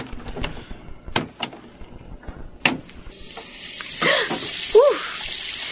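After a few sharp knocks and clicks, water begins running steadily from a tap to fill a bath, a close, continuous rushing stream that carries on to the end.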